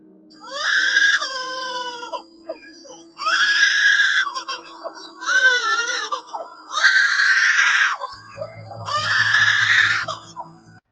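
A lyrebird mimics a crying baby in five wailing, sobbing bursts separated by short pauses, eerily close to an infant's cry.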